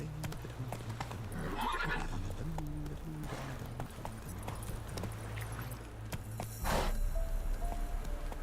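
Roach, Geralt's horse in The Witcher 3, clops along with steady hoofbeats and gives a couple of distinct neighs, one loud whinny standing out late, over an ambient game backdrop.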